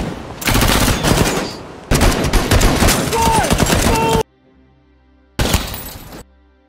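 Loud machine-gun fire rips through a film battle between ex-special forces and police, in long rapid bursts broken by a quiet pause before a final short volley.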